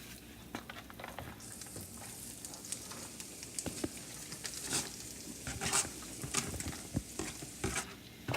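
Onions cooking in a pan for fajitas, a soft continuous sizzle with scattered pops and light stirring scrapes, fairly quiet and without talk.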